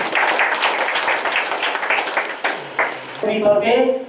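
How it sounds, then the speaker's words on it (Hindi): An audience applauds at the inauguration of a community hall in Risali, Bhilai, with steady clapping filling the room for about three seconds before a voice starts speaking. "आप सब ताली से सम्मान कीजिएगा जितने भी सदस्य हमारे यहाँ उपस्थित हैं।"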